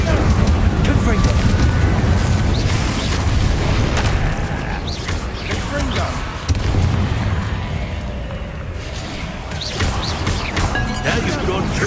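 Explosive Confringo spell blasts from Hogwarts Legacy boom and crash continuously amid loud game combat and effects. A person talks over the noise throughout.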